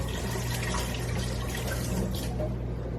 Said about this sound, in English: Let's drain some of the water off.